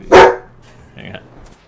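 A single loud dog bark from a video game creature, followed by fainter electronic blips and a low hum.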